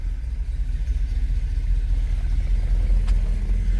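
A 1956 Buick Special Riviera engine idles with a low, steady rumble that pulses faintly and runs continuously, with no voices.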